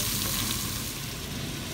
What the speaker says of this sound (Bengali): এখন আমি একটু ভাজ করে দিব